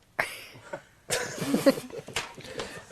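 A man coughs several times into a radio studio microphone, sharp close bursts followed by a longer rough fit of coughing.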